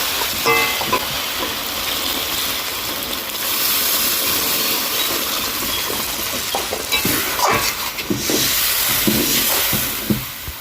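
Chicken masala hisses and sputters loudly after water goes into the hot pan, with steady bubbling sizzle broken by clinks and scrapes of stirring, close up and without speech.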